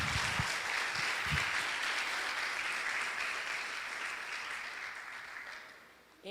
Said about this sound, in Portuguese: Dê um aplauso aí, Yahvé.